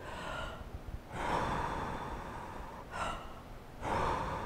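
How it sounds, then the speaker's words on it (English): A child does a balloon breathing exercise: slow, deep breaths heard up close, long airy inhales and exhales in a relaxed repeating rhythm, with no talking. "And you could try balloon breathing."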